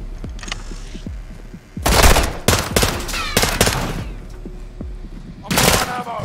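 Bursts of automatic gunfire in a Call of Duty: Modern Warfare 2 (2022) campaign firefight, loud and close, with dense rattling volleys and a pause between them, while voices shout over the shooting.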